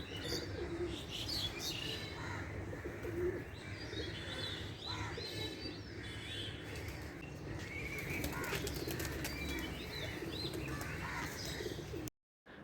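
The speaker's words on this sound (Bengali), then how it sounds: "চলুন ছাদে কত পায়রা এসছে দেখুন" Pigeons gathered on a rooftop in the morning coo and flutter close by, with chirps and a busy, continuous background of outdoor noise.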